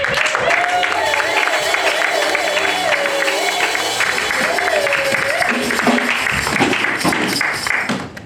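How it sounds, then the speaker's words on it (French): A church congregation claps and cheers for a visiting preacher in a continuous crowd roar lasting several seconds, with a voice singing or calling out over it. "manifestons-les par les acclamations."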